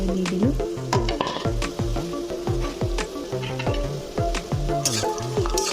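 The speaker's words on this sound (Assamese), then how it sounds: "পিঁয়াজখিনি ব্ৰাউন কালাৰ নোহোৱালৈকে ধুনীয়াকৈ ভাজি থাকিম" Onions and slit green chillies frying in a pan, browning with a loud continuous sizzle while a utensil stirs and scrapes in a repeated clattering rhythm close up.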